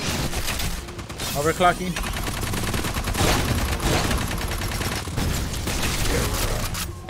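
An enemy turret fires in the video game Aliens: Fireteam Elite. It keeps up steady rapid gunfire at close range, mixed with mechanical clatter, while a voice speaks briefly over the shooting.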